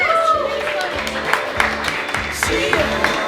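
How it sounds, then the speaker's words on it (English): An audience at a comedy show claps for comedian Mimi Salonen, a short burst of applause heard under a host's voice talking over it. "Another round of applause for Mimi"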